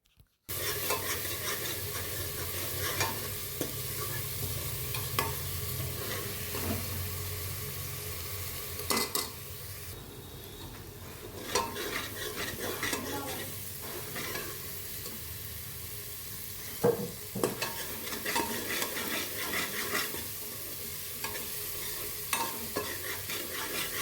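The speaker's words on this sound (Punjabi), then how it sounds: "ਤੇ ਹੁਣ ਆਪਾਂ ਇਸ ਨੂੰ ਪ੍ਰੋਪਰ ਤਰੀਕੇ ਦੇ ਨਾਲ ਹਲਾਵਾਂਗੇ ਘੱਟੋ ਘੱਟ ਆਪਾਂ 7 ਤੋਂ 8 ਮਿੰਟ ਤੱਕ ਇਸ ਨੂੰ ਹਲਕਾ ਹਲਕਾ ਬਰਾਊਨ ਕਰਨਾ ਕਰਾਂਗੇ" Masala stirred and fried toward light brown for aloo matar sabzi, a steady close sizzle with repeated scraping strokes of a spoon through the pan, running continuously with occasional louder clacks.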